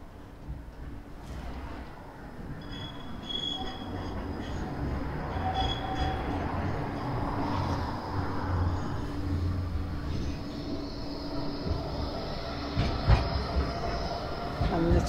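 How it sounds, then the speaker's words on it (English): A tram rumbles past on the Blackpool seafront along Princess Parade, a sustained mid-distance rolling drone with faint wheel squeal, heard alone without talk. "Trams."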